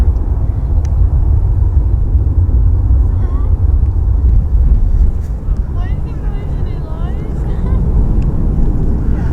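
Jet airliner landing at Birmingham airport, heard from a plane-spotting spot at Sheldon County Park: a steady, loud low roar that holds for the whole stretch, with wind buffeting the microphone and faint voices underneath.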